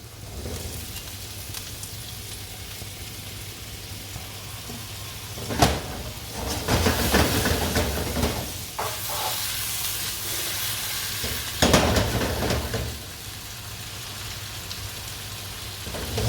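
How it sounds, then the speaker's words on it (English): Bitter gourd (ampalaya) sizzles and crackles in a hot pan with beef, a steady frying hiss swelling with louder bursts as the slices are stirred in, close and without talk. "I'm going to add my bitter gourd or Ampalaya"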